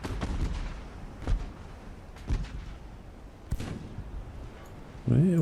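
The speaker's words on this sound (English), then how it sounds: "You're firing your main gun at the cruisers now." A warship's main guns fire in the naval battle game Ultimate Admiral: Dreadnoughts as three separate heavy booms about a second apart, each with a short rumbling tail over low background noise, before a voice starts talking at the end.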